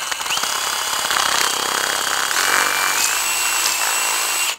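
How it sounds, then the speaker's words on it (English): A power drill whines steadily at close range while grinding through the plastic of a Mercedes W203 headlight housing, its pitch shifting slightly before it stops abruptly. "and just drill it out."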